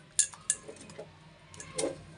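Cooked tomato mashed in a pot with a utensil: several light metallic clinks and taps against the pot at irregular intervals, fairly close and quiet, with no voices.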